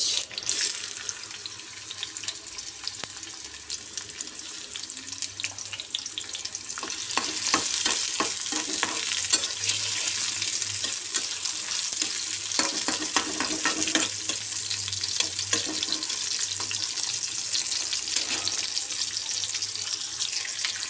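Garlic and onion frying in oil until brown, a continuous hiss of sizzling with intermittent stirring scrapes, close and steady throughout.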